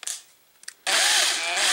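A power drill bores a hole through candle wax. After near silence with a few faint clicks, a loud, steady whirring starts abruptly and keeps going.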